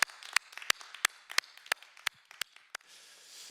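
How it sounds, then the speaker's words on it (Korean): A church congregation at a revival service claps in a slow, regular beat, with sharp distinct claps about three per second. The clapping is fairly faint against a quiet room and gives way to a soft wash of noise at the end. "좋으신 하나님께 영광의 박수 올리겠습니다."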